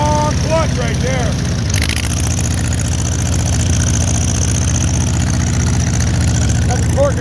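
An old Allis-Chalmers tractor engine runs at a steady, rough idle, loud and close, with a low, continuous throbbing. A brief clunk comes near the start, and faint whistling tones are heard early and again at the end.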